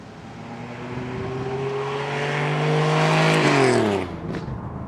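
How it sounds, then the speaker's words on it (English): A TVR Sagaris with its Speed 6 engine revs and accelerates, the loud, close exhaust note climbing steadily in pitch for a few seconds before the throttle lifts and the sound drops away sharply. "That Speed 6, it just sounds so incredibly ferocious."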